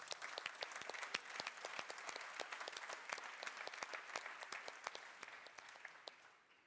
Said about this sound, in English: Please give a round of applause of these mentors